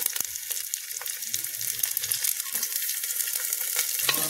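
Goat legs added to softened onions fry noisily in hot oil in a pressure cooker, a continuous close sizzle with crackling spits and light stirring knocks throughout.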